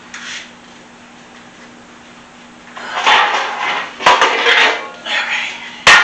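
Metal baking pans clattering and scraping while another cookie pan is pulled out in a home kitchen, a quiet stretch followed by loud bursts of clanking and rattling close by.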